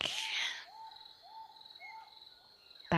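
Bird song played to guide a breathwork session: a few clear, repeated whistled phrases at moderate volume over a quiet background, after a brief noisy start and before a short burst at the end.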